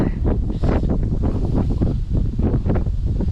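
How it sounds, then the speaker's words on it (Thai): Wind blowing at a lakeside during winter bass fishing in Korea, loud buffeting gusts rumbling against the microphone in uneven bursts, with no one speaking. "เริ่มลมแล้วครับผม"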